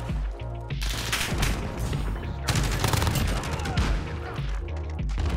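Rapid automatic gunfire and explosions in the Modern Warfare video game, loud and nearly continuous bursts.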